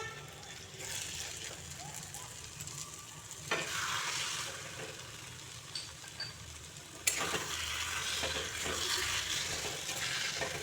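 Taro leaves with a little ghee cooking in a pan, a steady close sizzle with occasional stirring scrapes and clicks running throughout, fairly quiet and unbroken.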